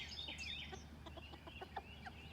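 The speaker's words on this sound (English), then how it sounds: "A few little entertaining chickens." Backyard chickens cluck in a series of short, quiet calls under a faint outdoor background, with a few soft higher chirps mixed in.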